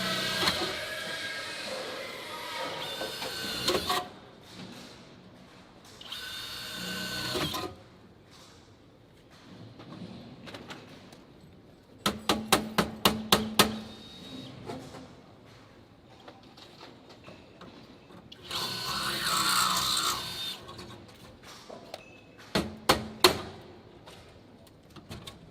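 A 2-inch knockout is cut into a meter socket for rigid PVC conduit: bursts of power tool whirring and grinding alternate with a quick series of sharp ratcheting clicks and quieter pauses.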